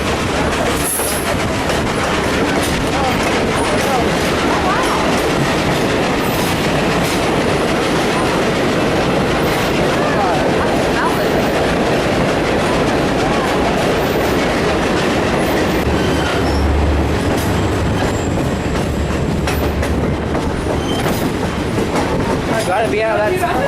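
A Western Maryland Railway train runs near the 914-foot Brush Tunnel bore, built in 1911, with steady rumbling and rhythmic clickety-clack of wheels that fills the whole stretch, loud and continuous, while voices talk faintly underneath.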